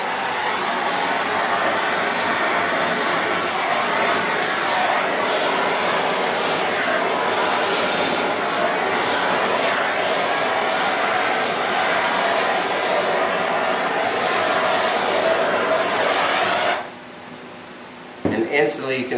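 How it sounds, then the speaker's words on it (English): A handheld torch flame roars steadily at close range while heating metal to bring out cells, a loud continuous hiss that cuts off abruptly near the end, followed by a brief clatter. "So you just take your torch, and you want to kind of heat it up pretty good,"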